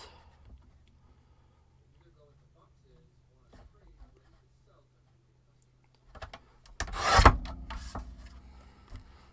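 Craft card being cut into strips with a cutting tool: mostly quiet with faint small handling sounds, then one short, loud scraping cut followed by lighter rustling.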